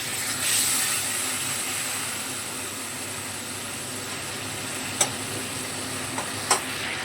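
Tomato and turmeric being stirred in a pan give a steady, close sizzle and hiss with a few brief utensil clicks near the end.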